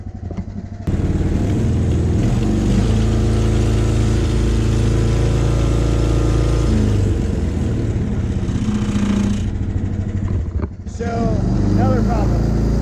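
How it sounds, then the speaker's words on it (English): A Baja buggy's engine runs loud and close on a test drive after a switch to a 9.2 sprocket, holding a steady droning rev before dipping briefly and surging again near the end. "So I'm about to go for another test drive."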